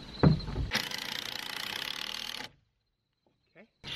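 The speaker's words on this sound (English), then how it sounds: "just get those steeply angled screws put down into place" A power driver sinking steeply angled screws into OSB roof sheathing on a playhouse, a sharp tap followed by a sustained whirring drive of under two seconds, then a pause and another brief burst starting.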